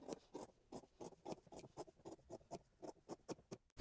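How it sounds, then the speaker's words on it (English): Scissors cut fabric along a drawn line to make bias binding: about a dozen short, crisp snips in a steady rhythm, close and fairly quiet, with no talking. "And we cut out along this line."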